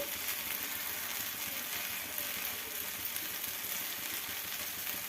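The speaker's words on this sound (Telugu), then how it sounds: "సిమ్లో బాగా కాల్చుకోవాలి వీటిని" Ginger pieces, cumin, green chili and onions fry in a pan over a low flame, giving a dense, steady sizzle that runs unbroken from start to end with no voices.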